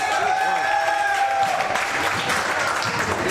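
A crowd at a handball match claps in a loud, steady burst of applause, with a commentator's voice and a whistle-like tone heard over it at first.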